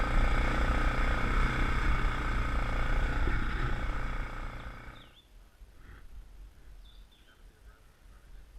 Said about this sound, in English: That might be the stock rev limiter.